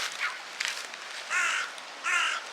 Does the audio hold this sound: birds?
yes